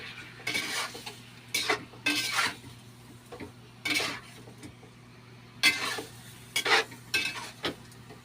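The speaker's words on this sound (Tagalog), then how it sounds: "Halo ko ulit." Pork adobo with kangkong stirred in a pan, a spoon scraping and clinking against metal in irregular bursts over a faint low hum, close and without speech.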